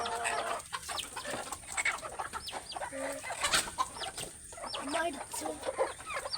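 Several chickens cluck in a steady, busy run of short calls, close by and fairly loud, with a few voices talking underneath.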